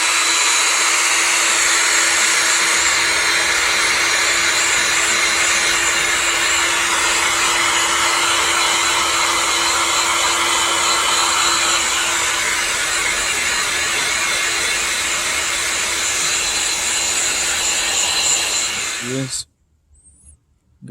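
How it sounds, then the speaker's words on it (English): Seek 1 heat gun blowing hot air to shrink heat-shrink tubing on a power wire during a Tahoe alternator and Big 3 upgrade, a loud steady hissing roar that runs continuously before switching off near the end. "I'm going to show you how this Seek 1 heat gun works."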